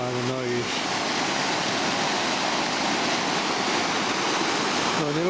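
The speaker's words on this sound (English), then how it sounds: "I'm just standing by the weir. You can tell by the noise." Water pours steadily over a river weir after a swell, a loud, continuous broadband rush that fills the whole clip, with brief tonal noises at the start and end.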